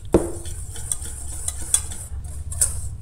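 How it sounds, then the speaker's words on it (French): Flour being stirred together with spice mix and baking soda in a bowl for a gingerbread-style cake, a soft scraping and tapping of utensil against bowl, close and quiet, with a sharper knock near the start and no talk. "On vient mélanger."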